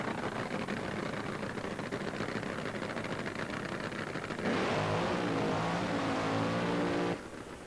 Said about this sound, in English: Top Fuel Eliminator, round number 2 is at the starting line.